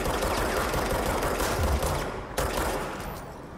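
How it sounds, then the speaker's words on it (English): Enemies in the video game Control fire a loud, rapid volley of gunshots that stays intense, then tapers slightly after a sharp hit late on. "He's shooting, ain't he?"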